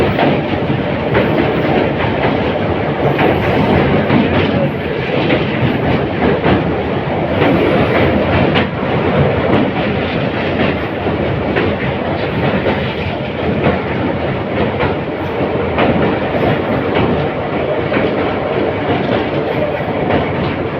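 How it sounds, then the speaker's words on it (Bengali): A train runs steadily along its rails through the Dooars countryside, rounding a curve by a river, with loud continuous rumble and rhythmic clickety-clack of wheels over joints throughout. "বাট একটা সুন্দর কার্ভ নিচ্ছে ট্রেনটা"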